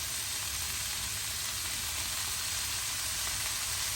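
Chicken giblets stirred with masala in a hot pan, giving a steady, loud, close sizzle and frying hiss that runs unbroken throughout with no talking.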